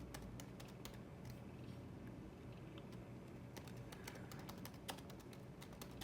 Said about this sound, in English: I really love this scissor switch keyboard. It's actually, when you're typing this, it's actually better than my M2's Magic keyboard.